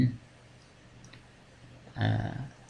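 A computer mouse clicks on a checkmark, with two short, sharp clicks, one at the very start and one near the end, set against a quiet background.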